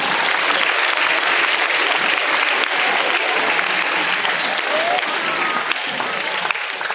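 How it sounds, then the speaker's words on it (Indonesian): An audience at an evening memorial gathering applauds with dense, sustained clapping that holds at an even, loud level throughout, with no voice over it. "Tepuk tangan untuk beliau semua"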